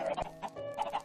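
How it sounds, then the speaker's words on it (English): Chickens clucking in the video game Minecraft, a quick run of several close, clear clucks in uneven rhythm, heard alone with no talk. "Then come the chickens."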